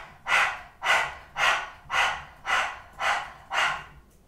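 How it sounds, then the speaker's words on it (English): Rapid rhythmic breaths in the style of Kundalini breathing, like a panting dog: seven even, loud, airy pulses about half a second apart, close by with nothing else under them. "some people find it easy to do it almost like panting like a dog to start with"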